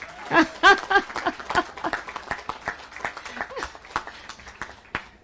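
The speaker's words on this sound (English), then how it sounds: "Everybody give her a round of applause." Applause for a guest at a city council meeting on election results, light and scattered clapping from a modest audience, with a few voices briefly audible at the start.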